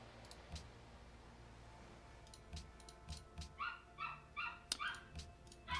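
Several short yaps from a puppy in a sequence near the end, fairly quiet over a low background hum with a few faint clicks earlier.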